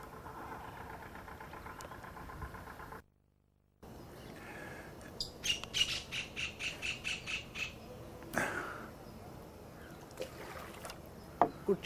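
Birds squawk in a harsh, repeated burst of calls as two flocks clash, heard from a boat on the water in India, with an engine humming faintly underneath.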